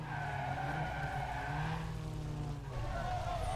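A car in Need For Speed Underground 2 skids and wrecks during a race, a loud, sustained engine roar with tire scrubbing and a brief dip as the car flips over.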